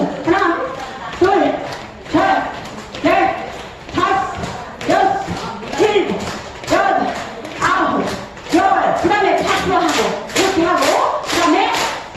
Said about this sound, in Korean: 손끝 박수도 이렇게 하시면